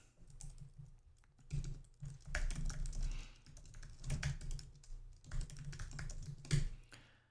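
Rapid, uneven bursts of typing on a computer keyboard while writing code, close and fairly quiet, with short pauses between clusters of keystrokes and no talking.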